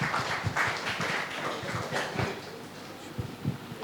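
An audience claps to welcome the performer Farhan at an evening peace-themed event, a steady mass of applause at moderate distance with a few louder claps rising near the end.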